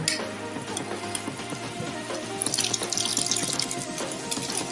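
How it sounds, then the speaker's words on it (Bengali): Reserved boiled water is poured into a pot of bottle gourd and chickpea dal curry, a continuous close splashing pour that grows brighter and louder toward the end. "সিদ্ধ করে যে জলটা ঝরিয়ে রেখেছিলাম সেই জলটা আবার আমি এর মধ্যে দিয়ে দেবো।"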